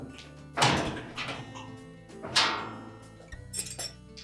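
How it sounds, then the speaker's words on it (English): A screwdriver prying loose a clip on a Whirlpool washer's metal cabinet, giving two sharp clinking thunks a couple of seconds apart, followed by lighter taps and rattles. "We're basically putting our screwdriver in there and releasing that clip where it hooks onto the cabinet on this edge"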